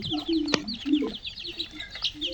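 Chickens cluck close by in quick, repeated calls with bird chirps around them, while a person talks over them.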